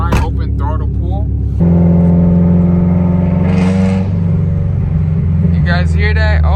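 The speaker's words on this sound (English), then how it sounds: "We're gonna do our fourth wide open throttle pull." Subaru STI with a catless downpipe and straight-pipe exhaust roaring through a wide open throttle pull, a loud droning engine tone that steps up and climbs in pitch, with someone talking excitedly over it.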